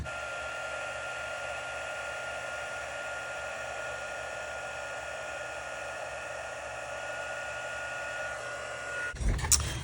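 An embossing heat tool runs as a steady, even whir while it sets embossing powder on a Stampin' Up Christmas card, then ends in a brief clatter.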